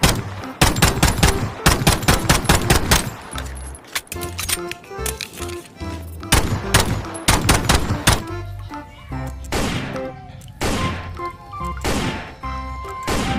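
Rapid bursts of sharp gunfire from a toy Glock pistol in quick strings, with short pauses between volleys, loud and close.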